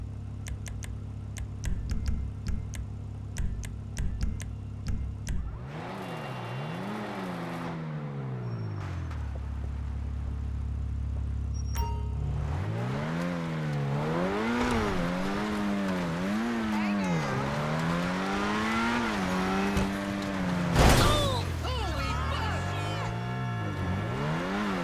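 Grotti Itali RSX sports car engine in GTA Online, revving repeatedly in rising and falling sweeps, loud and close, after a stretch of quick clicking taps at the start; a voice speaks faintly underneath.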